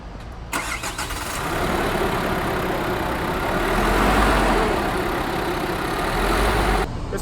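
A 2019 Nissan Frontier 2.3 pickup truck's engine starts and runs at a loud, steady rumbling idle, close by, before cutting off abruptly.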